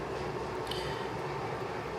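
A train rolls past nearby as a steady, dense rumble with a continuous broadband roar holding level and close throughout, with no voices.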